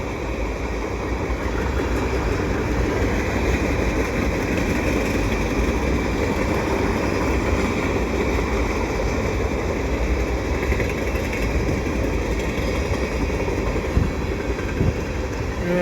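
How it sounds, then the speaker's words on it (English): A CN eastbound mixed freight train with lumber racks passes at Pointe Claire on a fall day. It makes a continuous loud rumble with steady rolling clatter from the cars, heard without any voices. "I have a feeling this train is going to be nothing more than these lumber racks."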